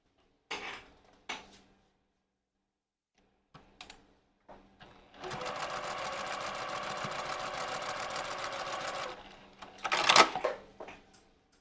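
Sewing machine stitching a long edge of triangle panels onto a cotton tote bag, a steady motor whir running about four seconds between brief short bursts and handling clicks.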